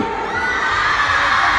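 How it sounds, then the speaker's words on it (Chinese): A crowd of fans screams continuously at a fan meeting, a dense, loud, sustained roar of high-pitched cheering with no pause. "尖叫不要停，尖叫。"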